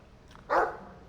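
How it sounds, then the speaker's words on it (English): A dog in the video game Dragon Age 2 gives one short, mid-loudness bark, close by over a faint steady background hum, with no talk over it. "I like the doggy."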